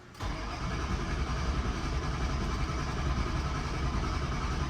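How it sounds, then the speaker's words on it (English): A truck engine cranks and catches in a crank-no-start diagnosis, turning into a loud, steady rumble close by that holds at an even idle with no voices. "All right, we're about to crank on this thing now."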